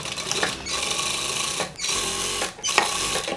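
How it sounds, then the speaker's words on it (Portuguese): Domestic sewing machine stitching a zipper fly seam in fabric, fast rhythmic motor-driven needle chatter in loud bursts with two brief pauses between runs. "agora eu vou passar a costura."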